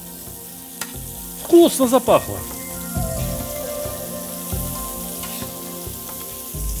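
Marinated chicken pieces fry in a very hot kazan, crackling and sizzling steadily with a burst of louder spattering near the start, while a voice briefly speaks.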